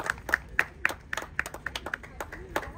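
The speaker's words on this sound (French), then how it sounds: "Applaudissements pour Elena Pugwald." A handful of people clap at an equestrian prize-giving, sharp, separate claps that come quickly and unevenly at first, then thin out and soften toward the end.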